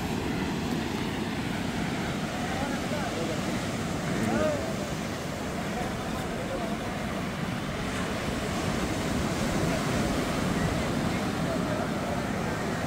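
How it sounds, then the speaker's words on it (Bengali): Sea waves break close to the shore at a beach in Mangalore, a continuous rough wash of surf mixed with wind buffeting the microphone, steady and fairly loud throughout. "এখানে ঢেউটা অনেক কাছে"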